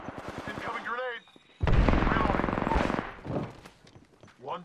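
Gunfire in the Apex Legends video game, loud rapid bursts crowding the middle of the clip, with voiced game lines before and after.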